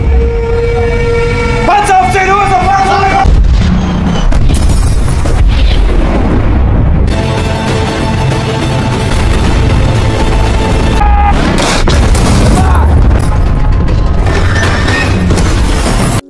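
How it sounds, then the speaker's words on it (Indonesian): Tank cannon shots and shell blasts from a historical war film, booming repeatedly through a dense, loud mix of music, sirens and effects, with voices speaking throughout. "tiba-tiba saja tank mereka yang menghilang di lapangan muncul dan langsung menembak munisi ke arah para kamera"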